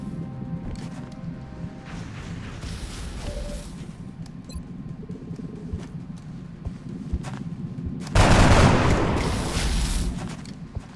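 Gunfire in the video game XCOM: Art of War, a quieter patter of shots and movement followed by a sudden loud burst of fire that swells near the end and slowly fades.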